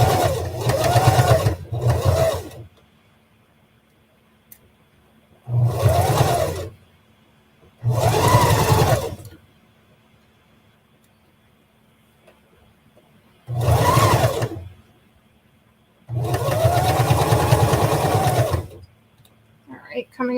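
A sewing machine stitches a Lolita headpiece in loud, steady whirring runs of a few seconds each, separated by pauses as the fabric is adjusted; a voice talks at times between runs.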